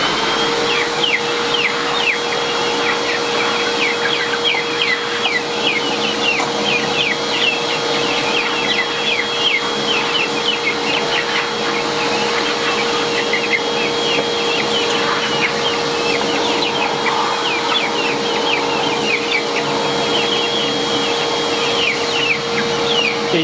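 A vacuum cleaner runs steadily inside a chicken coop, a constant whining drone under busy clucking and chatter from the hens throughout.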